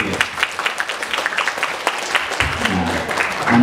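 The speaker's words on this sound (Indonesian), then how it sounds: "Tepuk tangan buat Mas Ujia." Audience applause at a public speaking seminar, a steady patter of many hands clapping at moderate volume for a few seconds, with a voice briefly heard near the end.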